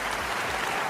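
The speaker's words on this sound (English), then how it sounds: "Let's give them a round of applause again" A short burst of steady applause from a crowd, continuous hand clapping with no pauses.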